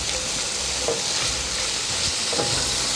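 Shallot, garlic and plenty of rosemary sizzle loudly in a roasting pan, a dense continuous hiss with a few soft stirring knocks, close up and with no voices.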